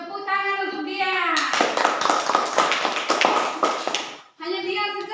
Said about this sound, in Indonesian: Tepuk tangan untuk dia.